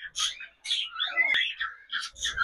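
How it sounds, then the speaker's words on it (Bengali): Several short, high chirps from cockatiel chicks come in quick bursts with brief gaps, close by and fairly clear, with no talking. "এই হয়েছে আমার এবার পাখির বাচ্চা, এই কয় পিস বাচ্চাই ফুটেছে"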